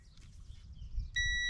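A single steady electronic beep from the ignition switch of a John Deere Z355R zero-turn mower sounds near the end and holds, fairly loud and close, after a low background rumble.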